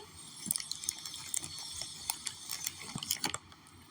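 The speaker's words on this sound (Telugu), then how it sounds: "10 minutes అయిన తర్వాత పాస్తాని ఈ విధంగా స్ట్రెయిన్ చేసుకోవాలి" Boiled pasta is drained through a strainer, giving soft splashing and dripping water with several small clattering bursts, close but fairly quiet.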